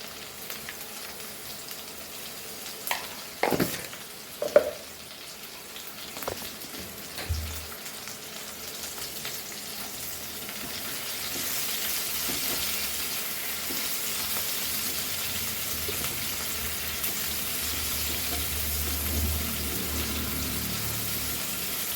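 Okra frying in a pan for a traditional Goan bhendi amsol. A few utensil knocks and scrapes come first, then a soft hiss that swells into a steady, sustained sizzle through to the end.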